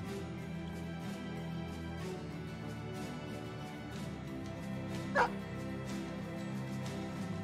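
Dog barking and yipping in the video game Battle Brothers, a short burst of yips and whimpers over a steady, dense game soundtrack and ambience, with one brief sharper yelp standing out near the end.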